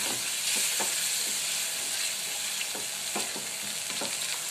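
Masala with yogurt and kasundi mustard sauce frying in a pan for masala parval, a loud steady sizzle with soft rhythmic scrapes of stirring, close by and without talk.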